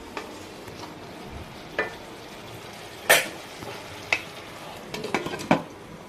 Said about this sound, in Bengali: এবার এটাকে ভালো করে নাড়িয়ে নিতে হবে।